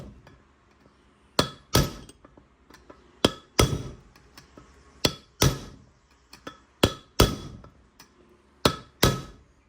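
Hammer blows drive a part into place on a Baja Bug build, about fifteen sharp metallic strikes, often in quick pairs, loud and close with ringing clinks and no talk.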